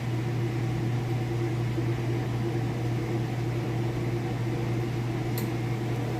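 A Kenmore washer spins at full speed, giving a steady, even motor hum with a constant low drone throughout and no talk over it.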